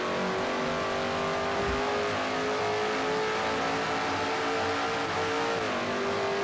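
A NASCAR stock car at full throttle in a racing video game, its engine holding a loud, steady high-pitched drone with a slight pitch dip and recovery near the end, heard alone without talk.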